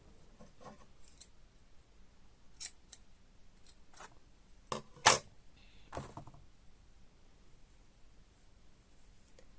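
Scissors snip through a crochet yarn tail, giving a few faint, sharp cutting clicks with one louder snip in a quiet room.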